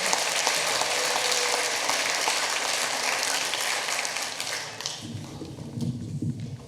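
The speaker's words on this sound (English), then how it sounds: "Let's give another applause for the great explanation of his song." A crowd at a Washington State Korean Day celebration claps steadily and fairly loudly for about five seconds, then the clapping thins and fades into quieter room noise with a voice starting up.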